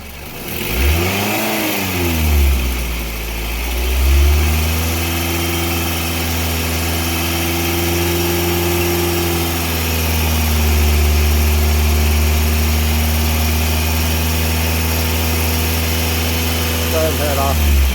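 The engine of a 2006 Scion tC rises from idle and is held at a steady, raised speed of about 2,500 RPM, a close, even hum that lasts for many seconds before dropping back down, with a person speaking over it.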